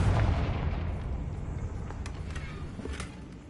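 Confringo spell explosion in the video game Hogwarts Legacy, a deep booming blast right at the start that decays into rumbling debris with a few scattered crackles and pops.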